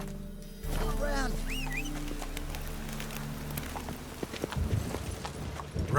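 Hooves of the horse Roach clip-clopping at a steady gallop in The Witcher 3, close and continuous over a low ambient bed, with a few bird calls chirping nearby.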